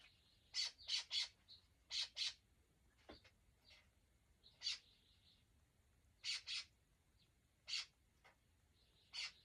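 Loud, raspy squawks from a nearby scrub jay, delivered in short clusters of two or three with brief gaps, over a quiet, still background.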